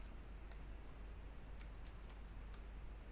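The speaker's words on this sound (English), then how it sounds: "so just type in your company name here" A company name being typed on a computer keyboard, with faint scattered key clicks in short bursts over a steady low background hum.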